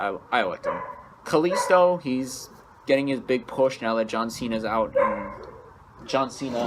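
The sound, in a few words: dog barking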